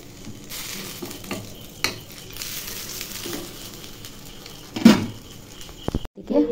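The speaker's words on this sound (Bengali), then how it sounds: "আর এদিকে ছোটো মেয়ের জন্য মাছ ভাজা করে নিচ্ছি" Fish frying in a home kitchen pan gives a soft steady sizzle and crackle, broken by a few louder clatters of the pan or utensil; no one speaks.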